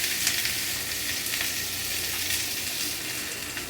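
Onions and napa cabbage hit a smoking-hot wok, giving a loud, steady sizzle with occasional crackles as the vegetables are stir-fried, no voices over it.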